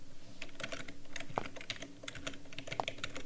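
Computer keyboard typing while playing the game Avernum, with irregular bursts of close, crisp key clicks and a few sharper, heavier keystrokes, quiet and without talk.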